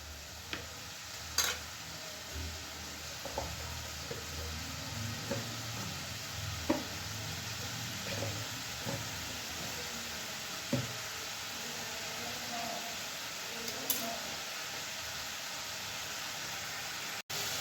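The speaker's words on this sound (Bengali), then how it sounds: "এবার ভালো করে মশলাটা কষা হয়ে যায়" Spice paste for a fig curry sautés in a pan, giving a quiet, steady sizzle broken by soft, irregular scrapes and taps of a stirring spoon.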